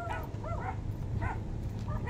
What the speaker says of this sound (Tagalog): May aso rito.